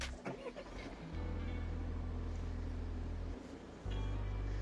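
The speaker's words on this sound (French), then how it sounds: "on a le système Start and Stop pour allumer le véhicule." A 2020 DS7 Crossback luxury SUV engine starting with its push-button start, a low steady engine hum that rises and settles into a close idle.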